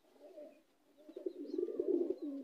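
Racing pigeon cooing softly in low, throaty murmurs, close by and fairly quiet, the coos swelling into a fuller rolling call toward the end with no voices over it.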